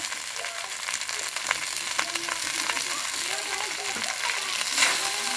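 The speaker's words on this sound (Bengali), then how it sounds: "এবার একে একে ক্যাপসিকাম দিয়ে একটু নেড়ে নিচ্ছি।" Capsicum and cabbage being stir-fried in a pan for vegetable momo filling, a loud, steady sizzle with intermittent stirring scrapes, close up.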